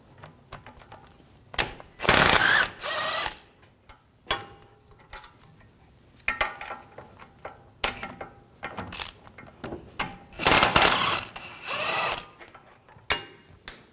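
Ratchet with a 16mm socket working the brake caliper bolts on a 2007-2013 BMW 328i, several bursts of loud, rapid clicking separated by pauses, close up with no talk.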